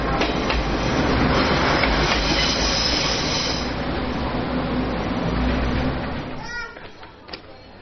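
A train rumbles and clatters loudly past at close range through Schiffen train station, wheels rattling steadily before the noise fades away toward the end.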